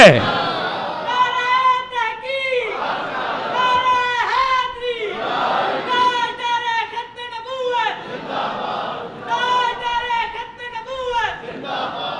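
A mosque congregation at a Friday sermon on Hazrat Amir Hamza raises loud religious slogans in unison, repeated call-and-response chants rising and falling in waves across the hall.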